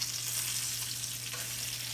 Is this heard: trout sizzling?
yes